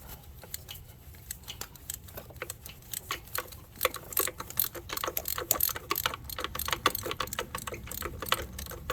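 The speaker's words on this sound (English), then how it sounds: "Then I take my spark plug tool to see if it fits in there first, and it does. Okay, and we take our 3/8 ratchet" A 3/8 ratchet turning a spark plug tool on a 2012 Chrysler 300 with the 5.7-liter Hemi, a close, quick run of sharp clicking ticks that speeds up and grows louder as it goes, with no talk.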